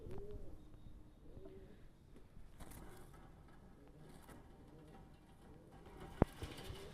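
Madrasi high-flying pigeons coo softly and repeatedly at close range, low rounded calls recurring through a quiet background, with a single sharp click near the end.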